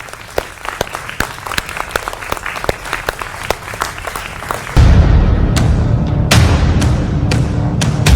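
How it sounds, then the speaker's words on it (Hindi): A studio audience at a Hindi TV news broadcast applauds, starting with scattered sharp claps before swelling into loud, dense, sustained clapping that fills the room until the end, with no talking. "जोरदार तालियों के साथ अभिनंदन है आपका।"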